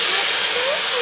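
Frying for a chicken biryani, hot oil hissing in a pan: a loud, steady, dense sizzle that holds evenly for about a second.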